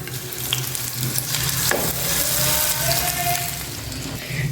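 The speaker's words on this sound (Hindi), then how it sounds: "अब जो मैरिनेट चिकन था उसको हम फ्राई कर लेंगे" Marinated chicken pieces fry in hot oil in a pan, producing a close, continuous sizzle that swells slightly midway, with faint stirring clicks and no speech.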